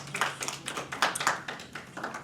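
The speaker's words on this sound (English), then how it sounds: "Please let's give a round of applause for doing this together." Community dialogue audience giving a round of applause, a modest group clapping in uneven bursts, fairly close with no talk over it.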